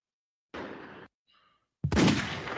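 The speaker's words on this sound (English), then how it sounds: "Gunshots on the soundboard." Gunshot sound effects fired from a soundboard during a sports talk show: two loud, abrupt bursts, the second bigger and echoing longer, separated by a brief faint blip.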